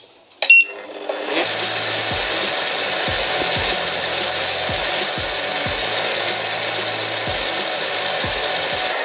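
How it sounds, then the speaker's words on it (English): An electric stand mixer runs steadily while eggs go into coconut cake batter, starting with a clunk and then a sustained bright whirring hum broken by regular rhythmic knocks of the beater against the bowl. "So we'll let our mixer run"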